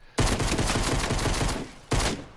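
Pistol shots in the video game Fortnite, a rapid string of loud gunfire lasting over a second, followed by one more short burst, close and dominant.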